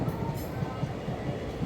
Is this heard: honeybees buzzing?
no